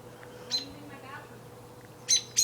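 An attacking bird calls while swooping, giving a few short, sharp, high chirps, one near the start and a quick pair at the end, over a steady low hum.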